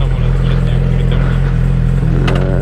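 An electric rental scooter pulls away with throttle applied straight after boarding, giving a steady close mechanical hum and rattle that rises slightly, with a brief higher whine near the end.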